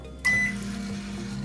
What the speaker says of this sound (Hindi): ये रख दिया मैंने अपने पैनासोनिक माइक्रोवेव में।